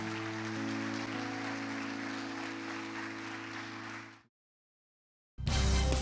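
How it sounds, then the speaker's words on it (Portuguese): Congregation applause at an evangelical church service, a broad steady wash of clapping for about four seconds with a sustained tonal hum beneath, then a short silence before a loud burst of sound returns. "você pode aplaudir a Jesus"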